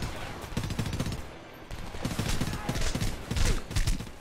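Rapid automatic weapon fire in the Homefront video game on PC, with loud dense bursts of shots filling most of the stretch and a short lull partway through.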